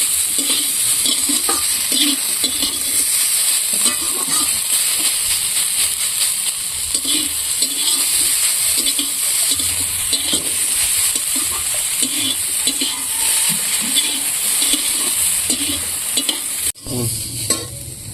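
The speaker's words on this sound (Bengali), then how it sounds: "পেঁয়াজটা কড়াইতে দিয়ে আমি শুধু এরকম করে ভেজে নিচ্ছি" Onions dry-frying in a kadai with no oil, stirred steadily with a spatula that scrapes and clinks against the pan, keeping up a close, continuous sizzle throughout with no voices.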